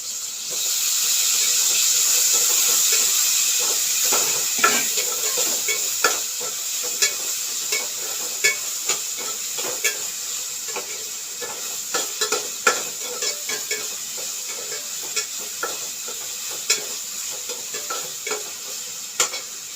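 Chili and coconut stirred and fried in a pan: a steady sizzling hiss with repeated sharp scrapes and clinks of a spoon against the pan, close and loud, no talking.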